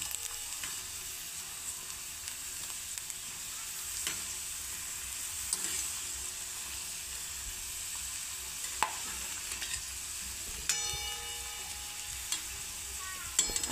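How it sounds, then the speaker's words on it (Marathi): Sago and potato chakli fry in hot oil, giving a steady low sizzle with occasional light clicks and stirring sounds, and no voices. "तर अजून आपण 2-3 चकल्या तळून घेऊ।"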